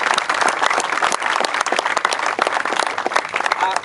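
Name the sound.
audience applause for the school superintendent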